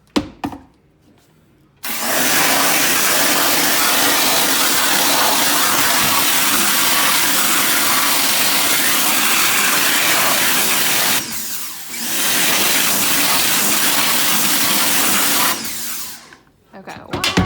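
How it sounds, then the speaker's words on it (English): A power washer blasts a screen-printing screen in a steady, loud spray that runs without a break, drops out briefly partway through, then resumes until it cuts off near the end. "I'm going to power wash it from top to bottom twice to make sure all of the suds come off"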